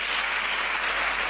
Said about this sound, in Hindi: एक बार जोरदार तालियां कविता के लिए बजाइए